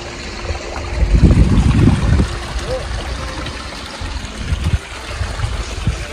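Water of a river crossing on a mountain trail up Mt. Sumbing near Magelang, rushing and splashing in a steady broadband wash, louder at first then easing, with voices and footsteps over it.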